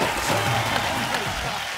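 Studio audience on a Hindi comedy talk show breaks into loud applause to welcome a guest, a dense burst of clapping and crowd noise that stays steady and close for a moment.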